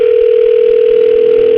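A steady, loud telephone tone hums without a break during a 2004 radio call-in show while a call goes unanswered, with no voices over it.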